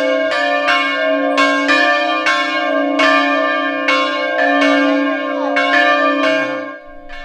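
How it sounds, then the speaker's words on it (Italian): Church bells peal in festive celebration at Capanne di Sillano for the reopening of the local church, several loud, regular strikes ringing out with long overlapping resonance, with no voices. "Hanno finalmente risuonato a festa le campane a Capanne di Sillano in occasione della riapertura della chiesa locale"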